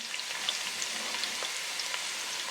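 Onion sizzles in two tablespoons of hot coconut oil over a medium flame, a steady, soft, crackling hiss with no break.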